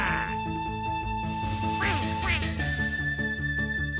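Duck quacks at a duck race in the video game Shenmue II, heard over continuous game background music with a brief rising sweep in the middle and no talking.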